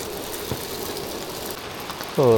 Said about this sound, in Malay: hujan pula di pagi hari.